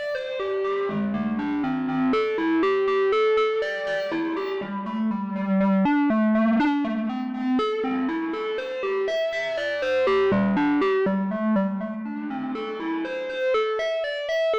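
A Volca Modular synthesizer plays a busy sequence of bright, buzzy tones, smeared and spread out by heavy reverb, with a slightly distorted, echoing character.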